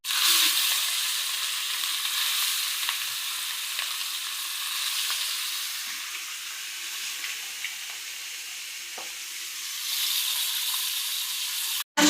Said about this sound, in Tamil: பாருங்க, குழம்பு கொதித்து விட்டது.